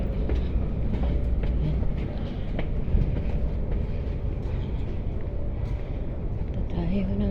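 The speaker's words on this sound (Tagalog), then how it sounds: "May parating na tren." A train rumbles past at close range, a steady loud roar of wheels and carriages with squeals and clatter, while voices murmur in the busy station.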